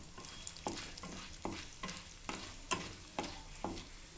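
Chana dal roasting in a pan over a low flame: a soft, dry sizzle with regular scraping strokes of a spatula about every half second, quiet and close, with no talking.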